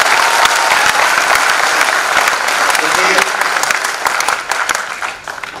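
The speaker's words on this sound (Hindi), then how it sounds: "आप थोड़ा सा तालियां वाले बजा देंगे तो हमारा विश्वास बरकरार रहेगा।" A crowd at a Hindi kavi sammelan, a comedic poetry gathering, bursts into loud, sustained clapping at close range, which gradually thins and fades toward the end.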